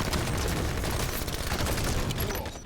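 Dense bursts of rapid gunfire from the Halo video game crackle loud and close for a couple of seconds, then drop off abruptly at the end.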